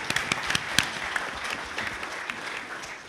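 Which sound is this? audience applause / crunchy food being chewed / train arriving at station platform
audience applause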